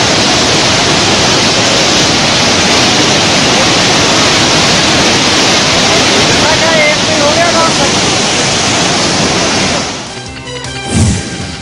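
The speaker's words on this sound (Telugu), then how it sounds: "తవా డ్యాం నుంచి 13 గేట్లు ఎత్తి దిగువకు నీటిని విడుదల చేశారు అధికారులు." Floodwater gushes from the 13 opened gates of Tawa dam as a loud, unbroken roar of rushing water that fills the scene, then drops away abruptly near the end.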